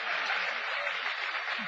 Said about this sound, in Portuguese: Vamos aplaudir o Senhor pela vida da Alessandra